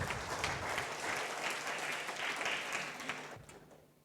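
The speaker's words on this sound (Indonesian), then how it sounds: "berikan tepuk tangan meriah buat Tuhan kita" A church congregation applauds during a worship service, a dense, even wash of clapping from many hands that carries on steadily and then fades away.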